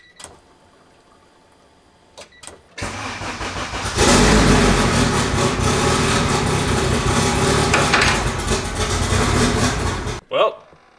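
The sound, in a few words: turbocharged Honda EG car engine starting and running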